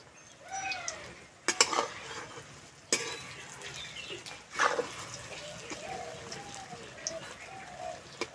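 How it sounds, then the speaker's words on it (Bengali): Besan pakoras deep-frying in hot oil give a steady crackling sizzle, with a few sharp clinks from a utensil. Someone talks over it throughout. "কি মোটা মোটা হয়ে ভাজা হচ্ছে"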